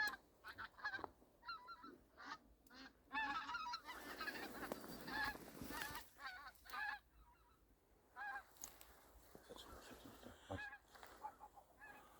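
Geese honk repeatedly in a loose, overlapping flock during a goose hunt, calls fairly faint and distant against a rough background hiss.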